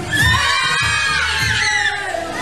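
Children shout and squeal together at a birthday party, a loud burst of high excited voices with a few rising cries.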